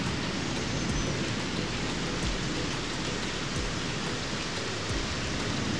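Steady rain pours down outdoors, a dense, even wash of falling water heard close and continuously with no voices over it.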